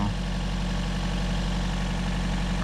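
A 2014 Chevy Volt's Ecotec engine idles with a misfire code, a steady low rumble holding constant for a few seconds with no talk over it.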